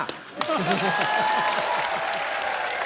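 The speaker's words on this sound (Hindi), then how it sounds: "चलिए तालियां।" Studio audience applause on a Hindi comedy talk show, clapping rising and holding steady at moderate loudness while someone speaks over it with a chanting, rhythmic voice.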